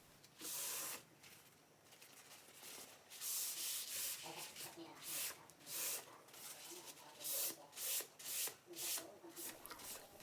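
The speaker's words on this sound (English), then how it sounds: "applied it, and then wiped the excess off" A cloth wipes watered-down dark gray chalk paint off a worn vintage wooden vanity in short, close rubbing strokes that come in uneven bursts, soft and scratchy, with no talking.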